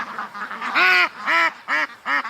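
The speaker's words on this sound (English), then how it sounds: "And there's the little limpy duck," Several loud, nasal honking quacks from ducks, including a limping one, sound close by in four bursts over a soft backdrop of more distant calls.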